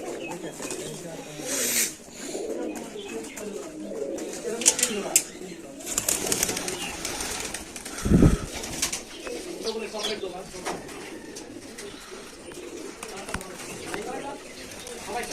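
Giribaj pigeons in a loft coo in soft, repeated throaty calls, with a few wing flaps, while people talk nearby.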